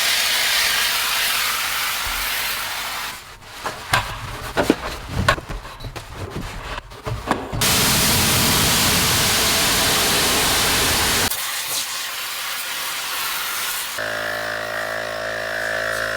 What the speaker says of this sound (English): The foam nozzle has a bypass mode, so it's like really gentle, low PSI.